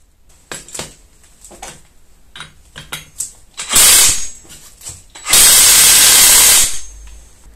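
An impact wrench tightens the nut on a Malossi clutch. It fires a short hammering burst, then a longer rattling burst of over a second, loud and close, with scattered clicks of handling between them.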